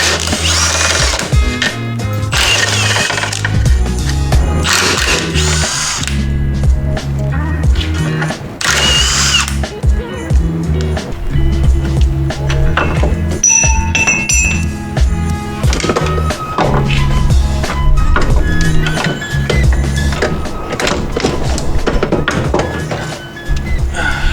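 Power tool whirring and rattling in bursts while loosening the outer tie rod on a Nissan 240SX steering rack, loud and close with metallic clatter and shifting pitch throughout.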